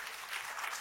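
A church congregation claps in a dense, steady wash of applause, filling the whole short moment at even volume.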